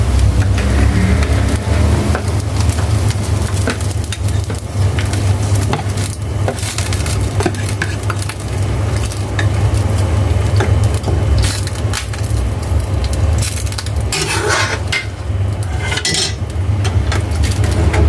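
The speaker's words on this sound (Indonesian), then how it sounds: "Kita aduk guys supaya merata dia" A spoon scrapes and knocks around inside a pot of goat meat soup for a long stretch, with a constant low rumble from the stove underneath.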